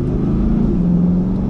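Corvette C8 V8 engine with the performance exhaust, valves closed in tour mode, giving a steady low rumble while cruising on tarmac, continuous and fairly loud throughout.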